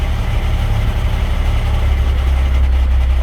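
A semi-truck tractor idles in low gear during a coupling tug test, its engine giving a loud, steady, deep diesel rumble close by with no talk over it.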